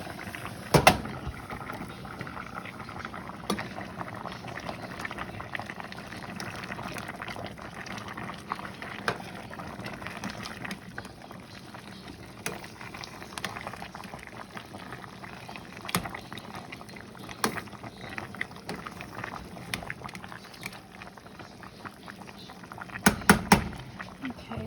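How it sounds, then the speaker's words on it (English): A pot of water boils hard on a kitchen stove, with a low continuous bubbling and occasional sharper clicks and knocks over the quiet simmer. "so now it's really boiling."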